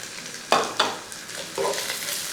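Crushed ginger and garlic stirred in a hot oiled frying pan for Kerala-style beef fry, with a few scraping strokes over a soft sizzle.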